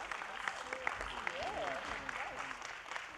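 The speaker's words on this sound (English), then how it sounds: "Give them a round of applause." Applause at a Los Angeles County Board of Supervisors meeting for the Cal State Dominguez Hills basketball team, faint steady clapping with cheers and voices rising over it.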